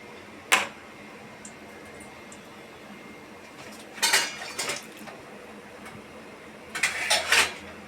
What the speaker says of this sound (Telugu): కడాయి పెట్టుకొని నూనె వేసుకోవాలి.